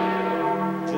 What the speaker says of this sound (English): The bells rang out across St. Peter's Square